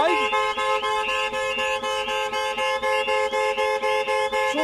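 A StarLine S-Series car alarm fitted to an Audi RS3 at full alert, a loud, continuous rapidly warbling siren with steady repeating pulses, close and unbroken for the whole stretch.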